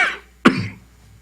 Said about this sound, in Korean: 헛기침이 나와서 뭐